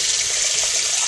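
Water gushes steadily from a tap right after a new deep well pump has been installed, a close, continuous hissing rush with no speech.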